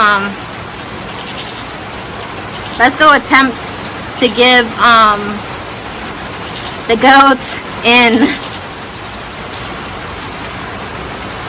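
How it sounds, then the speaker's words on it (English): Heavy rain falls steadily outdoors on a goat farm, a constant broad hiss throughout while a person speaks in short bursts over it. "I don't feel like going back in the house because it's really raining out"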